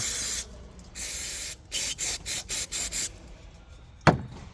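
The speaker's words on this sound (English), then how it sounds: "Now your float, you want to spray this off, get it nice and clean." Several bursts of aerosol spray hiss cleaning a plastic carburetor float, one long blast followed by a quick series of short sprays, then a sharp clack.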